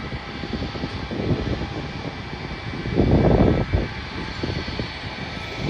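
A Singapore Airlines jet airliner taxis at Auckland Airport, its engines a steady, moderately distant roar with a whining hum that swells briefly midway before settling back.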